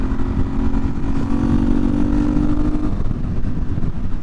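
A Suzuki DRZ400SM single-cylinder engine with the airbox lid removed revs loudly and steadily up close, with a strong raspy intake suck over the engine roar.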